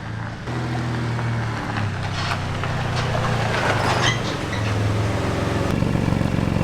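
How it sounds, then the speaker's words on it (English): A car engine idles with an exhaust leak ahead of the O2 sensor, giving a steady low drone with a rough, ticking exhaust note and faint rattles and clanks from nearby work, close and continuous. "it's got an exhaust leak to the point that the engine light's on"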